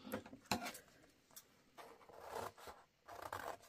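Scissors snip a picture from a sheet of paper in a few soft, scattered bursts of crisp cutting, quiet and close, with brief pauses between strokes and no talk.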